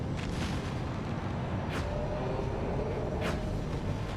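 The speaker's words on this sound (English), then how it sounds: "I'm having to offset my shots here with the cannons to kind of manage things" Cannons fire in the mech video game Mecha Knights, two sharp distant-sounding shots cutting through a dense, constant rumble of battle noise.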